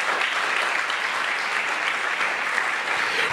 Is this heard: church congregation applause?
yes